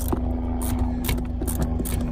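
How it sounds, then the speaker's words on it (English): A low, steady mechanical drone with a thudding rotor pulse, a helicopter flying overhead, rumbling continuously throughout. "Excuse the helicopter."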